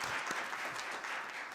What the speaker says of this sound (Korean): 우리 큰 박수 한번 부탁을 드리겠습니다